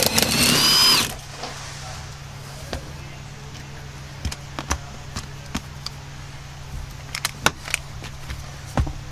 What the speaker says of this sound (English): Use a 13mm socket to remove the bolt in the bottom and the 2 center nuts